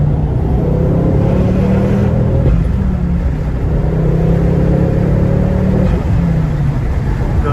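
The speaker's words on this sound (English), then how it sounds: "the sound of the engine is just absolutely absolutely awesome" A Ford Focus ST 225 engine revs hard under acceleration from inside the car, rising in pitch through the gears with brief dips at each shift, loud and continuous with some wind noise.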